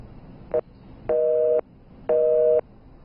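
Telephone busy signal heard while calling the White House: a short blip followed by two long, evenly spaced tones, each about half a second, clear and alone against faint background hiss.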